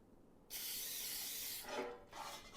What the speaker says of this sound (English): I am going to spray butter the loaf pan.